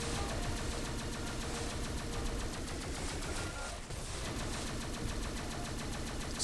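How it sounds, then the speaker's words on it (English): Homing missiles fire in rapid succession in the twin-stick shooter Neon Chrome, a dense, continuous barrage of quick shots and blasts at moderate loudness, with a brief dip partway through. "Are you shooting homing missiles?"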